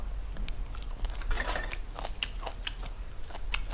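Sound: eating a meal, chewing

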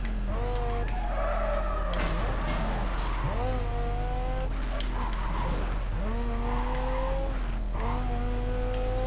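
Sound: car racing into a curve in Need for Speed Carbon video game

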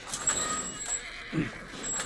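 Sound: horse whinnying in a video game

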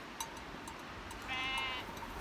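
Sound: sheep bleating

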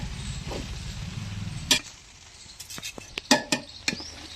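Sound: stirring and mixing snack ingredients in a steel bowl

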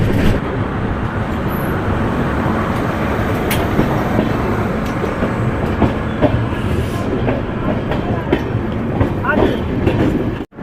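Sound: passenger train moving on Kolkata to Deoghar route

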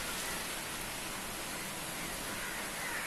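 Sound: heavy rain pouring during a storm

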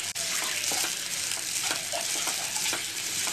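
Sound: coconut being sautéed and stirred in a pan

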